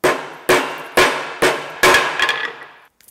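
A hammer strikes five times in a steady rhythm, each blow loud, sharp and close with a short ringing decay, the last one followed by a few lighter rattles and then quiet.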